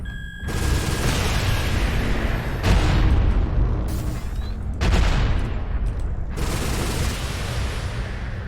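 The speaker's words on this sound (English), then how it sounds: "New target acquired. Artillery strike online." Artillery strike explosions in the MechWarrior Online video game: several loud, heavy booms and rumbling blasts in succession, each followed by a crackling, roaring tail, with no talk.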